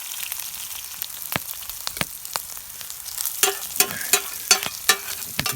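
Elk steak sizzles in a Dutch oven, a steady close hiss of frying with sharp crackles and pops that grow busier toward the end, with no talk over it.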